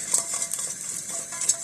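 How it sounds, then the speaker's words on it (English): Chicken stock ingredients sizzle in a pan with a steady hiss, broken by light scraping and clinking as they are stirred, close and fairly quiet, with no talking. "Now you can hear it sizzling."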